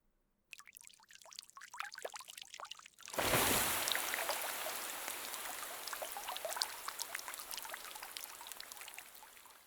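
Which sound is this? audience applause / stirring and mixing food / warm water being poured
warm water being poured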